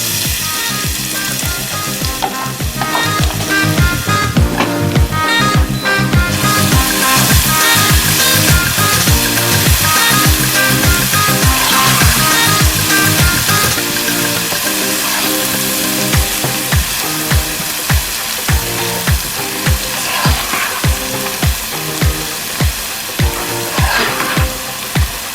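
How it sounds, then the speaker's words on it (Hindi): Garlic ginger paste sizzling loudly in a pot while being stirred and fried for biryani, a continuous dense hiss with frequent scraping and clinking strokes of a spoon against the metal, close and steady throughout. "अभी तक भुनेंगे जब तक इसका जो कच्चा पानी है लहसुन अदरक का वो जो है खत्म नहीं हो जाए"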